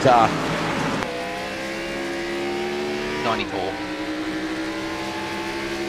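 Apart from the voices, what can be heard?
NASCAR race cars racing at Watkins Glen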